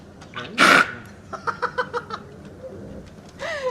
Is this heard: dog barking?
yes